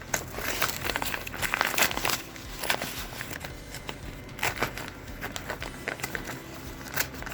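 Recycled paper seed packaging from Sow True Seed crinkles and rustles as it is handled and opened, a steady close-up run of crackling bursts with no talking.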